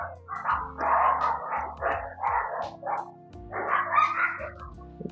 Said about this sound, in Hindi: कुत्ते क्यों भौंक रहे हैं बे